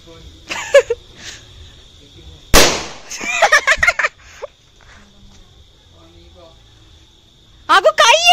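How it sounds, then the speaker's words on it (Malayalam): Firecrackers set off during a Vishu celebration in Kerala: one sharp, loud burst stands out amid scattered smaller pops and crackles, with people talking and exclaiming around it at close range. "നമ്മള് സൗണ്ട്ലെസ് ആയിട്ടുള്ള പടക്കങ്ങളാണ് പൊട്ടിക്കുന്നത്."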